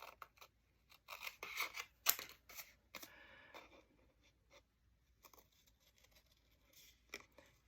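Scissors cut through paper while a journal cover is being built, a quick run of close, crisp snips and slicing strokes that bunch together, pause, then come back in short bursts with no talking.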